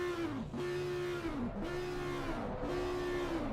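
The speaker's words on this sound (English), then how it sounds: "Giving us a few celebratory revs as he tries to get the car broken loose" An Audi race car in a sim racing game at Spa gives three quick celebratory revs, each engine note climbing, dipping and holding, loud and close with no talk over it.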